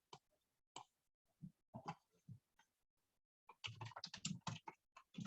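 Keys on a computer keyboard tapping in short irregular bursts, then a denser run of rapid typing near the end, close and fairly quiet with no talk.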